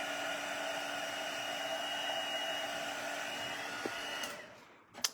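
Steady whirring blast of a heat tool melting embossing powder on paper, a constant airy hum held close and alone before it cuts off with a couple of clicks at the end.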